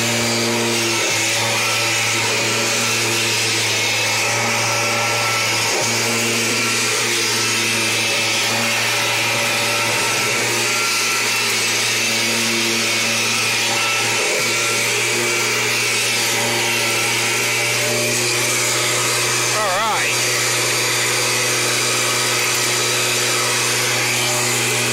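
A Kirby vacuum cleaner, a 1984 Heritage 2 compared against two G4 models, drones continuously at high volume with a steady motor whine and a faint pitch shift near the end.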